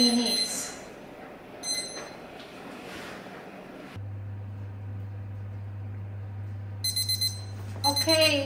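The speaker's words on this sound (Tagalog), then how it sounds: "tapos na ating timer" A kitchen timer beeps in short electronic bursts while homemade waffles cook, the shrill chirps coming intermittently over a low steady hum and quiet kitchen background.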